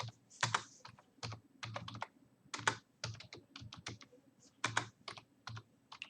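Fingers type an address on a computer keyboard while filling in the online JEE Main 2021 application form: quiet, close key clicks in irregular bursts and short pauses, with no voices.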